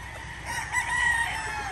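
Chickens in a uniform flock, with a rooster crowing amid steady clucking and farmyard noise, moderately loud and continuous, no talking.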